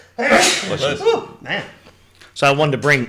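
A person sneezes once, loud and close, followed by brief chuckling and another voice talking.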